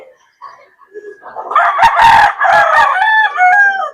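A gamecock rooster of the Lemon Sweater bloodline, kept as a backyard bird, lets out one long, loud crow close by, building from a soft start to a full, ringing call that holds for a couple of seconds.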